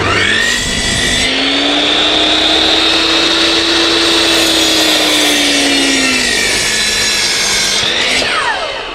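A power saw cuts building material on a house construction site. Its blade whines loud and close for about seven seconds, with the pitch dipping slightly under load, then spins down at the end.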